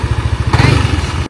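A motorcycle engine putters with a fast, pulsing low throb on the ride to the Gunung Butik hiking base camp, loud and close, with a rattling clatter joining midway.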